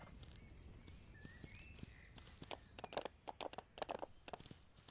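Horse hooves thud in a quick canter rhythm over a soft steady background in a video game, growing louder and more distinct toward the end; no voices.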